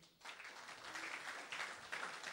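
Applause from the audience at a political congress in Argentina, after senators and officials are introduced; steady broadband clapping, moderately distant and fairly quiet, continuing for the full stretch.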